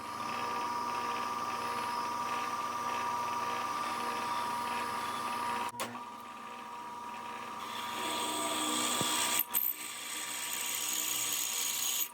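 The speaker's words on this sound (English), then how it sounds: "we're going to center drill, ream, and counterbore" A machine tool whirs with a steady high-pitched tone while center drilling metal for a bicycle repair stand part, with a couple of sharp clicks and a shift in pitch midway.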